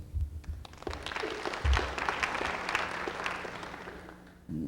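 An audience at a comedy show breaks into a burst of clapping and cheering that fills the room, rising quickly, then holding steady before cutting off.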